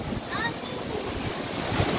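Strong, steady typhoon wind roars across the whole clip, a dense broadband rush with low gusting rumble and faint high whistles, no pauses.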